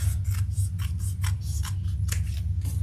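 Sewing scissors snip through fabric while a zipper pocket piece is cut, a quick series of about a dozen crisp, close cuts over a steady low background hum.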